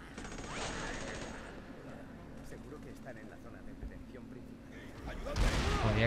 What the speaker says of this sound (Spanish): Y seguimos disparando y haciendo explosiones.